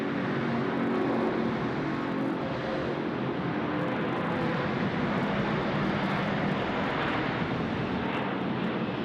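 A jet airliner lands at Sydney Airport, its engine roar a broad steady rumble heard from a distance, continuous and unbroken with no talk.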